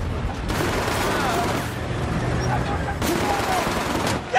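Sustained gunfire in the PS3 game Battlefield: Bad Company, loud and continuous bursts with heavy rumbling low end, broken by a couple of sharper cracks, with shouted voices underneath.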